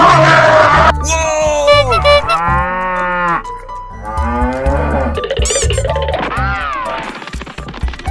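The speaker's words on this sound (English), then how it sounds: "Cow." Cartoon cattle moo loudly in a series of drawn-out, harmonic calls over a constant musical background, several overlapping moos across eight seconds.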